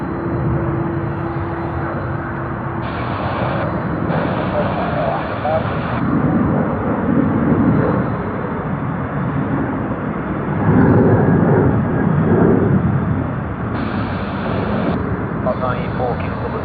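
An Air X Airbus A340 (9H-BIG) departing Sydney Airport, a loud, sustained jet engine roar swelling and easing as it climbs away, with air traffic control radio chatter over it.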